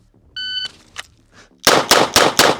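A Smith & Wesson 586 L-Comp revolver firing .38 rounds: four loud, sharp shots in a quick, evenly spaced string, preceded by a short electronic beep and a few faint clicks.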